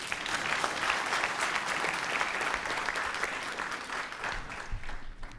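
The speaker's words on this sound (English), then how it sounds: "Would everybody like to join me in another round of applause?" An audience at a PanAfrican Youth Summit conversation with President Museveni claps in sustained, dense applause that fills the room and tapers slightly toward the end.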